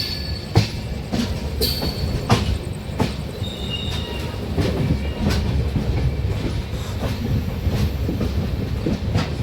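A passenger train with new LHB coaches rumbles toward Guntur station on the Charlapalli to Chennai Central run, heard from inside with a loud continuous roar and regular sharp clicks and clacks of wheels over rail joints, plus occasional faint squeals.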